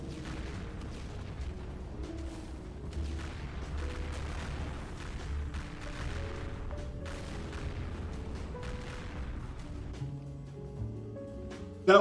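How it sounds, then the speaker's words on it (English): Explosion sound effects from bombs in an indie video game, a rapid string of dull booms and crackling blasts at moderate, steady loudness. "Lots of explosions."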